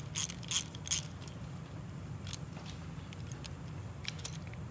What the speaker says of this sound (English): Now what I have to do is tighten this up so the piston rings go into their grooves.